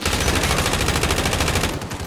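Rapid, sustained bursts from a PPSh submachine gun in an online shooter's final circle, loud and close, continuous automatic fire for about two seconds before tapering off.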